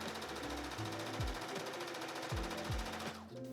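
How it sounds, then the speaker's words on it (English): A sewing machine stitches dress fabric in short bursts, its motor whirring and needle chattering quickly, then stopping and restarting a few times, close and clear with no speech. "I'm just going to sew down this side here"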